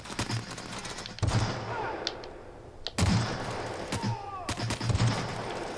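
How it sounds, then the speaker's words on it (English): Minigun fire in The Outer Worlds video game, continuous rattling bursts broken by brief gaps, loud and close, with faint game sounds underneath. "He's got a minigun."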